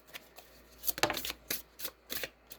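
A Wild Reflections tarot deck being shuffled by hand, close and quiet, in a series of quick riffling bursts separated by short pauses.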